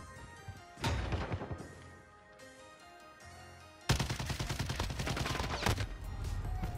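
Repeated gunfire from a shotgun in an online shooter video game, loud bursts of blasts with a few seconds of quieter game ambience between them.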